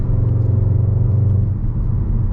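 A Skoda Octavia 4 car engine while driving, heard as a close, steady low rumble with a faint pulsing hum through the short stretch, and no talking.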